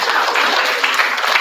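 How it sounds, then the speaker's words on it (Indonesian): An audience at a school event at SMAN 4 Bogor applauds a doctor's presentation, a dense, sustained clapping from many hands that stays loud throughout. "Boleh tepuk tangannya?"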